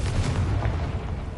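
A Confringo explosion spell cast in Hogwarts Legacy produces a dense, booming rumble like artillery fire that sustains loudly throughout.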